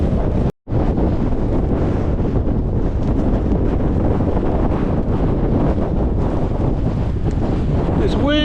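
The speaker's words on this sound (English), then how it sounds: "This wind is relentless." Strong, relentless wind buffets the microphone on an exposed fell hike near Skiddaw and Dodd in the Northern Fells, a loud continuous roar with a brief cut near the start.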